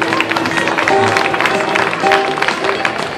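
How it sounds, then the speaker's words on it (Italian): Close, loud applause from a studio audience for a band at a talent show, with a continuous patter of clapping and murmurs of voices underneath. "Facciamogli ancora un applauso."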